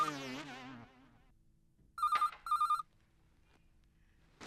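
A telephone rings in two short, loud bursts in a quiet room, following a brief stretch of tonal voice or music at the start.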